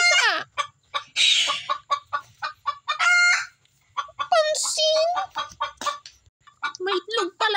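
A noisy hen cackles loudly and repeatedly after laying an egg in a kitchen, her bursts of clucks and squawks coming close and in irregular runs with short pauses between.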